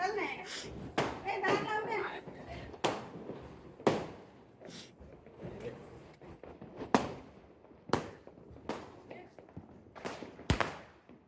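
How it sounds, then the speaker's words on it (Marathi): Firecrackers bursting during Diwali: a series of sharp, loud bangs at irregular intervals a second or two apart, some near and some farther off, with people talking between them. "किती फटाके उडवणार आहे आता"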